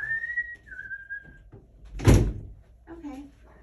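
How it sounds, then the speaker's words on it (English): A closet door is pushed shut in a cluttered jewelry closet, giving one loud thud near the middle, with faint whistling before it and soft background noise around it. "Let's see if I can shut this door because it's so obnoxious."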